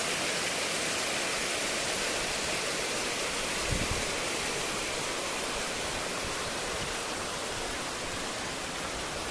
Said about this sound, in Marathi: खाली धबधबा पडतो मित्रांनो मोठा धबधबा